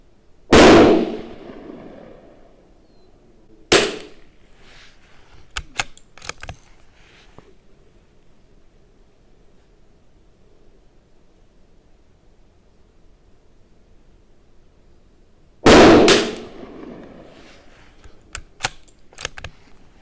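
Tikka T1x bolt-action rifle firing CCI .22 LR rimfire rounds outdoors, two sharp close shots about fifteen seconds apart, each with a brief echo, plus faint clicks of bolt cycling in between.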